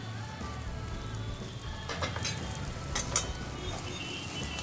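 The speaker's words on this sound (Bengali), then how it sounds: "এবার এই টমেটোর সাথে মশলাটা আবার খুব ভালোভাবে কষিয়ে নেব" An onion, tomato and spice masala sizzles steadily in a pan over low to medium heat, a continuous soft crackling hiss with a few slightly louder spits and no talk.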